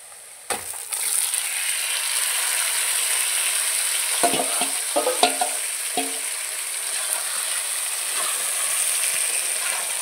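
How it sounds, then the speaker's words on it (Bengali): Marinated chicken pieces drop into a pan of onions fried until reddish and start a sudden, steady loud sizzle and hiss, with a few scraping stirs partway through. "এবার দিয়ে দেবো এর ভিতর মাখানো মাংস।"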